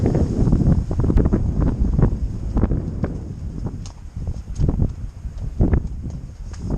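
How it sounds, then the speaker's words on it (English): Gusty wind buffeting the microphone in uneven rumbling bursts during a horseback ride, with faint thuds and rustles mixed in outdoors. "It's windy, isn't it?"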